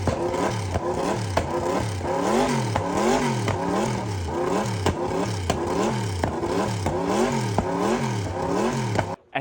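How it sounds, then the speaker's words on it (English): Mercedes Sauber C9 Le Mans race car engine starting and revving hard, loud and close in steady repeated surges with rattling clatter. "They'll be starting that car up in a moment, so we'll put in some footage of that thing actually shooting flames from the exhaust"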